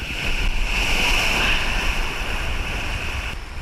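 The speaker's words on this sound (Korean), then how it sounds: "이건 파도 맞는 게 더 많은 것 같아요" Surf breaking against a rocky shore at Pohang where anglers are fishing in rough weather, heard as a loud, continuous wash of roaring water with wind buffeting the microphone, no speech.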